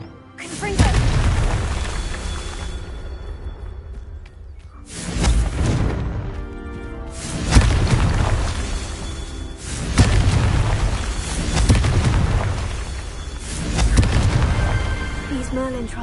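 Several booming spell blasts from the Confringo charm in Hogwarts Legacy erupt one after another at roughly two-second intervals, each a loud burst with a whooshing tail.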